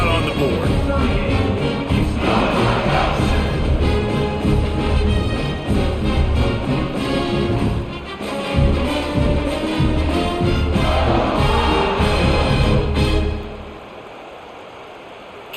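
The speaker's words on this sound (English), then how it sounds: "this crowd is feeling themselves after that last drive" Stadium crowd noise from EA College Football 26 during a simulated UCLA at Ohio State game, a loud sustained roar under an announcer's voice, dropping off abruptly near the end.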